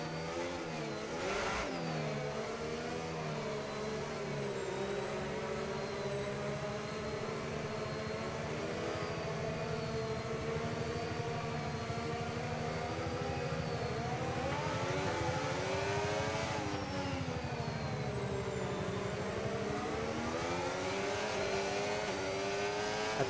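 Race car engines in a racing game rev and accelerate steadily at a safety car restart, with a continuous layered whine that rises and falls as gears shift, and no talk over it.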